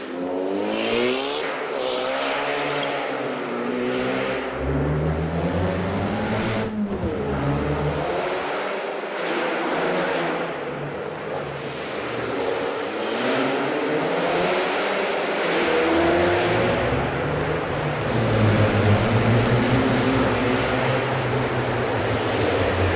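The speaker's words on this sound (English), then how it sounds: "They did retweak the exhaust notes." A 2020 Ford Mustang EcoBoost with the High Performance Package roars through repeated revving and accelerating runs, its exhaust note rising and falling in pitch, loud and close, with some tire squeal.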